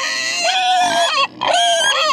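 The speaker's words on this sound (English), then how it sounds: "All the high white pigs are screaming at me." White pigs on a small farm scream loudly at close range, two long shrill squealing cries with a brief gap between them, without talk.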